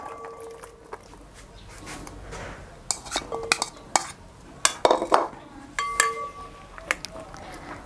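Water chestnuts being stirred into a bowl with a spoon, giving scattered clinks and scrapes of utensil on dish that grow busier toward the end, close by with no talk.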